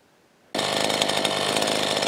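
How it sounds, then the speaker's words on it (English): A chainsaw roars to life after a brief quiet moment, then runs loud and steady at close range cutting brush outdoors, its engine droning continuously. "Dad's out there chainsawing some brush"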